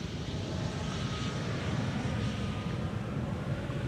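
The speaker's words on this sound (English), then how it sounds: "Right now, an Embraer 190 is landing." An Embraer 190 airliner flying for KLM, operated by German Airways, lands at Schiphol on the Polderbaan runway, producing a steady, broad jet roar that holds loud and constant throughout, with no talking.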